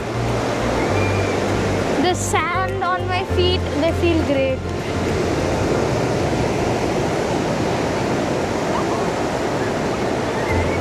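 Ocean surf rolls onto sand at Vodarevu beach in a continuous broad wash with a low engine-like hum early on, while a voice speaks briefly over the waves near the start.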